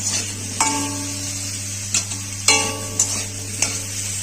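Raw green banana frying in hot oil for shukto, a steady sizzle broken by a handful of sharp metallic scrapes and clinks of a utensil against the pan, close and clear, with a constant low hum underneath.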